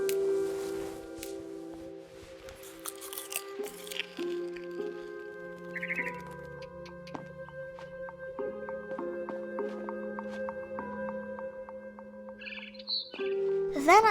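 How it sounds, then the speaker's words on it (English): Barn swallow chirping outside a window in the video game What Remains of Edith Finch; brief high chirps rise over a steady bed of sustained musical tones, clearest toward the end. "Then I heard chirping outside my window. It was a barn swallow going back to her nest."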